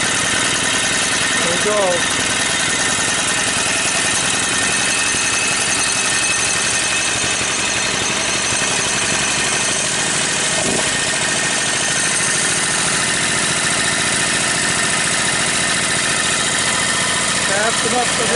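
A Briggs & Stratton 18 hp opposed-twin engine with dual carbs and dual exhaust runs loud and steady close by, holding an even throbbing drone throughout while someone talks briefly over it.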